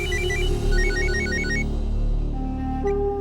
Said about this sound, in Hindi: दिलीप जी का फोन होगा, फोन उठा के बात कर ले